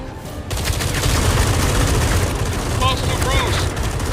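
Sustained automatic gunfire in the Batman Arkham Shadow video game, a dense rattling barrage that runs loud and steady with a few higher whistling tones mixed in near the end.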